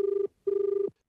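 A telephone rings for a radio phone-in call: two clear electronic trilling bursts, close and clean, the second slightly longer, with a short pause between them.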